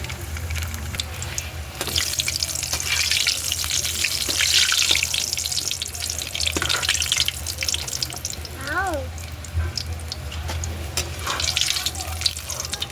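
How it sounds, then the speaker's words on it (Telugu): Vadiyalu fry in hot oil with a continuous crackling sizzle, steady and close, while voices and faint household noises come and go in the background. "ఇప్పుడు వడియాలు ఎంచుకుందాం."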